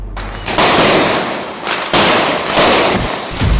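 Diwali firecrackers burst in a rapid, crackling barrage, loud and close, with a few heavier thumps spaced through the dense popping.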